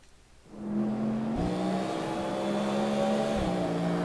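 A car engine in CarX Street revving up from quiet, its steady tone climbing and dropping through quick, smooth gear changes with no gaps in power.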